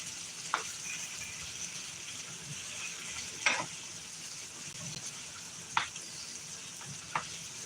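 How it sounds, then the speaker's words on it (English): Ground chuck (80-20) and spices sizzle steadily in a pan for spaghetti sauce, with a few sharp scraping stir strokes of a utensil breaking through the constant frying hiss. "let's stir our hamburger and all of our spices together"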